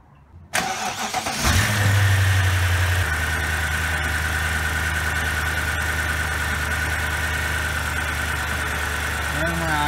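A 2007 BMW X5 4.8 V8 cranks and fires up, then settles into a steady, close, rumbling idle that runs to the end of the clip.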